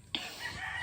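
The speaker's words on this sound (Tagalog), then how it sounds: "papatakasin niya yung manok." A chicken in a rural Philippine province setting gives a short clucking call, close and moderately loud, lasting under a second.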